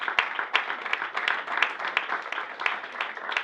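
Audience applauding at a leadership talk, brisk irregular clapping from many hands filling the room, fairly close and steady throughout.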